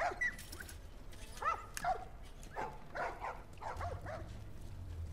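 Puppies in The Last of Us video game yip, bark and whimper in a string of short, high cries spread across several seconds, fairly faint over a low steady hum.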